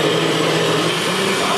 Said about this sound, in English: you just put that in whatever blender you're using